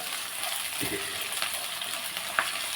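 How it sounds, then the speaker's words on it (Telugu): Onions frying in a pan for a chicken curry, a steady close hiss of sizzling oil with a soft stir and a faint clink partway through, no voices. "ఉల్లిపాయ బాగా వేగిపోయింది కదండి"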